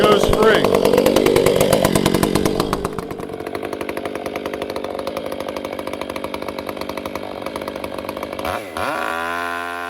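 Chainsaw with a dull, unsharpened chain running loud and close as it cuts wood, a harsh buzzing drone that drops in pitch and steadies, then revs and winds down at the end.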